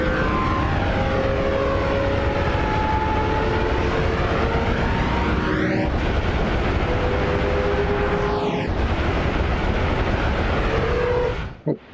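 A sustained loud jet-like roar from flying at supersonic speed in Noita, with sweeping whooshing pitch shifts that rise and fall over several seconds before cutting out abruptly at the end.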